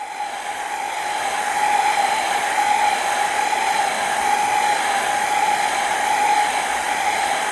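A hair dryer blows steadily over alcohol ink on paper, a constant close whooshing hiss with a steady whine that continues without a break and without any speech.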